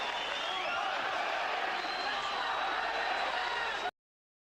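Boxing arena crowd at the Mundine vs Kessler fight roaring in a dense, steady wall of cheering and shouting, loud and continuous throughout.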